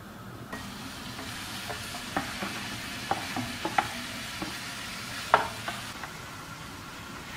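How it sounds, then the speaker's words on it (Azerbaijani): Thin strips of chicken fillet fry in a few spoonfuls of oil in a pan, a quiet steady sizzle with occasional sharp pops and small clicks of stirring, close and without talk. "Fileni biraz yağda qovururuq"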